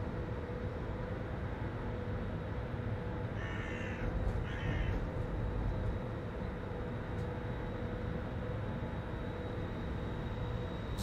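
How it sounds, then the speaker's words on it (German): Crows near a railway line give two short, distant caws over a steady outdoor background hum, with no voices. "Also die Krähen hört man überdeutlich."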